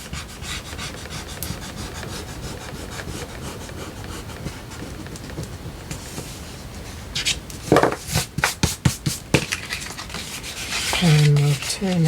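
Eraser rubbing out pencil marks on paper while making an album flip pocket cover with photo mats, a steady close scratchy friction for several seconds, then a burst of sharper strokes near the end.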